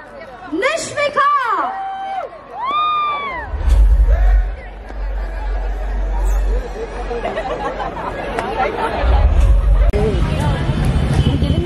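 A concert crowd in a large venue cheers and claps amid loud babble and whoops, with rising swells of noise and a few bright voices on top, building toward the end.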